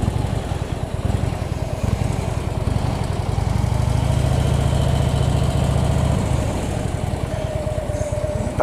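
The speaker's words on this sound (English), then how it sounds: "Back the old bike in here." An old motorcycle idles steadily with a low, rumbling engine pulse while it is backed in and turned around near a lake, loud and close throughout with no talking.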